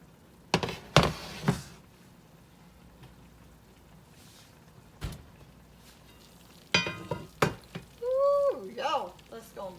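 Cube steak simmering in gravy in a pan for an old-fashioned Southern meal, with soft sizzling and bubbling under brief bursts of stirring and clatter; near, moderately quiet, with pauses between sounds.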